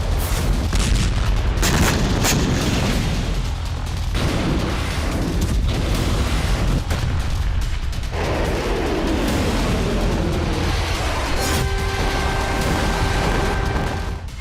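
Loud, continuous battlefield roar of explosions and booms from attacks on Israeli army bases, with repeated heavy blasts and crackling gunfire-like bursts throughout, and a steady tone appearing near the end.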